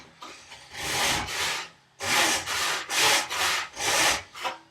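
A hand saw cuts tenon cheeks in a workbench timber held in a vise, giving loud, rhythmic rasping strokes close by, about eight back-and-forth pulls with a short pause after the first few, and no talk.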